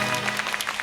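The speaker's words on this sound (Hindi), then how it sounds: "तालियां इस बात पर।" A studio audience at a Hindi-Urdu talk show claps in a steady, continuous wash of applause, mid-level and slightly distant, over a low hum.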